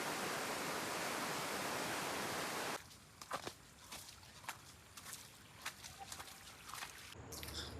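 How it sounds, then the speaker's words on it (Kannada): Steady, loud rushing water from the Dudhsagar waterfall fills the first few seconds along a forest trekking trail, then drops away to quieter ambience with scattered footstep-like knocks and rustles. "ದೂಧಸಾಗರದಿಂದ ಬರೋ ನೀರು ನೋಡ್ರಿ."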